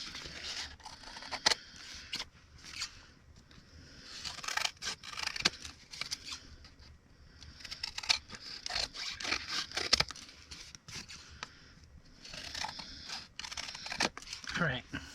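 Scissors cutting out paper pieces for a junk journal, crisp snips and rustling, crinkling paper handling in irregular bursts close up, with occasional tearing and scraping sounds across the whole stretch.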